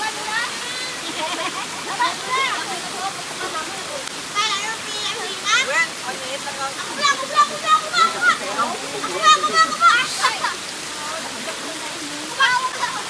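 A rural provincial waterfall pours with a constant loud rush of falling water, while several people chatter and call out over it.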